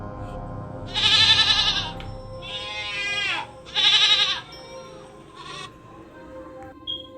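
Two loud goat bleats, wavering and nasal, with a shorter bleat between them and a faint one near the end over quiet background noise.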